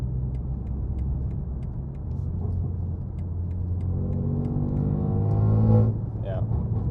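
A BMW M3 Competition's engine rumbles at idle, then rises in pitch through a short rev before dropping back, heard close by with a person talking over it.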